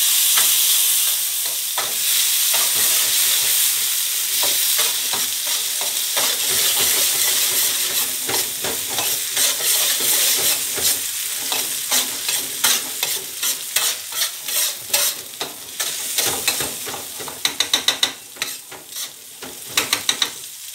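Tomatoes fry in hot oil in a paella pan for a vegetable paella, a steady loud sizzle with stirring scrapes, then crisp spatters and sharp clicks toward the end.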